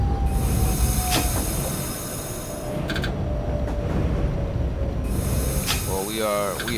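Subway train running with a steady rumbling roar, brief wheel squeals and a faint whistle-like tone, ending in a high warbling sound, as a B/Q train on the Brighton Beach Line pulls into Brighton Beach station in the OpenBVE train simulator.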